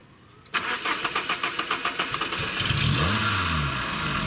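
A car engine cranks after a battery swap, a quick run of rhythmic starter turns, then fires and catches into a loud, steady idle that briefly swells as it settles, close up and with no voices.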